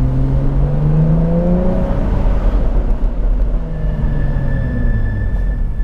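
A Jaguar F-Type convertible's engine revs loudly and close on a mountain pass road in North Wales, its pitch rising and falling through gear changes with a steady rumble and no talking.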